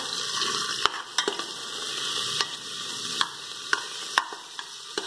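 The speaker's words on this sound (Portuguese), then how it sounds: "Aqui eu tô fritando um bacon para colocar o feijão para cozinhar." Bacon sizzles and crackles in a hot pan, a steady hiss broken by sharp pops and a few stirring scrapes, close up.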